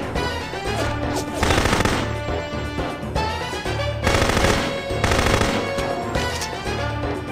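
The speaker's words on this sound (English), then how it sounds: "Don't know who's currently shooting at me." Enemy gunfire in the video game No One Lives Forever 2, rapid machine-gun bursts firing in repeated loud volleys over game music, with no talking.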